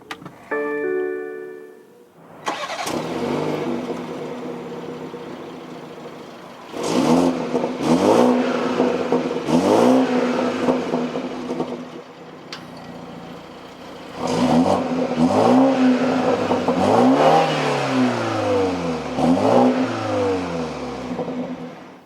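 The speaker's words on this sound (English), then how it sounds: "keeping my foot on the brake, we can go ahead and fire it up." A 2021 BMW 430i Coupe engine starts after a short warning chime, then settles into idle with several loud, rising revs and throttle blips close by.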